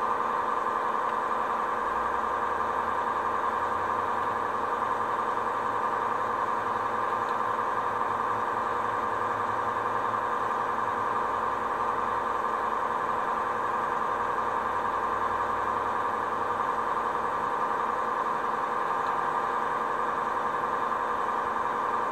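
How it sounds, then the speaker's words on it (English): A truck engine idles steadily while building air brake pressure, a continuous low rumble with a constant hum above it, heard alone without talk for the whole stretch. "Start the engine. Build full air pressure to 120 psi."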